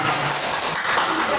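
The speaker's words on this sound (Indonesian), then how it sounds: "tepuk tangan untuk saya sendiri" A group in a classroom session claps in a short, dense burst of applause that stays steady throughout.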